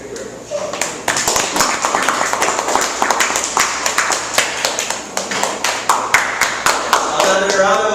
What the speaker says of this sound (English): Another round of applause for Jomar.